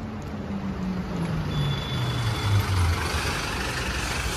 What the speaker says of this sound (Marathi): चला मित्रांनो, आपली शार्पेची गाडी आली, बघू शकतात.